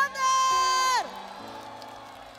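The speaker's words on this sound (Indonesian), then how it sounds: "Boleh tepuk tangan untuk Gugun Blue Shelter" Audience at the Java Jazz Festival cheering for Gugun Blues Shelter: a long held vocal tone breaks off into a broad wash of crowd noise with whoops, moderately loud and sustained.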